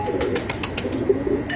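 Pigeons coo softly on a rooftop loft, a low murmuring bubble of calls layered over one another, with faint wing flutters and light rustling around them.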